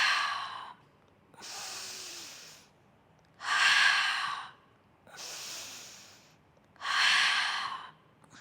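Forceful breaths during a mat pilates exercise, four loud close airy exhales and inhales alternating with short quiet pauses in a slow, regular rhythm.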